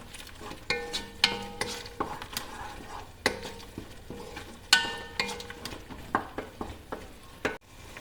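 Tomatoes cooking with chili powder in a pan are stirred with a utensil, giving uneven scrapes and clacks against the pan over a soft sizzle, with a few sharp knocks.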